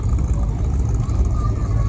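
Cars pulling up at an outdoor car show in Underwood, North Dakota, make a steady, loud low engine rumble that runs unbroken, with a faint murmur of crowd noise underneath.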